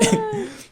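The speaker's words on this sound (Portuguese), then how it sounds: "Isso me dá uma tosse" A single short, harsh cough with a throat-clearing rasp, close and fairly loud, fading quickly, with no talking.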